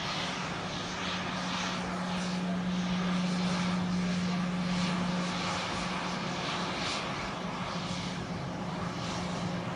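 A WWII-era propeller airplane engine drones loudly and steadily throughout, with a constant low hum and a broad rushing roar.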